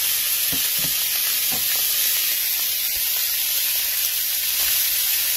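Butter sizzling in a hot pan, a steady bright hiss with faint crackles, continuous and close, with a few soft clinks underneath.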